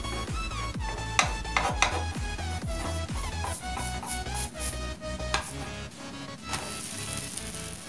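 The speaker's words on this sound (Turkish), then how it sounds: "bütün keki bu şekilde göz olana kadar kızartıyoruz arkadaşlar, kızgın tavada" Cake batter for milk-bun burgers sizzles steadily in a hot pan, a continuous crackling fry with music playing loudly over it.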